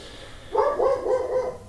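In the background a dog lets out a quick run of four or so moderately loud barks, roughly evenly spaced and rising from a quiet room, with no voices heard.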